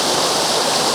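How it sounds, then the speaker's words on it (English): A waterfall roars with a steady, broad rush of falling water, loud and close, constant and unbroken, with no voices over it. "So that is the waterfall there in front of you."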